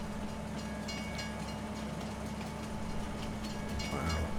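A train rolling along a rail line in Farming Simulator 19, a steady rumbling clatter that holds throughout with a slightly louder swell near the end, no voices.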